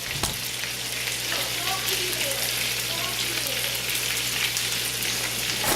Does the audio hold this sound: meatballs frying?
yes